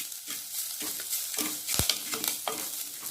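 Curry leaves, a halved dried chilli and rock salt sauté for rasam, with a soft sizzle broken by sharp stirring scrapes and clinks of a spoon against the pan, close and unvoiced.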